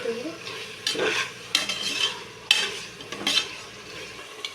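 Vegetables for a vegetable biryani fry in a pan while being stirred: a soft continuous sizzle under repeated scraping and clinking strokes of a spoon against the pan, close and moderately loud, with no talking.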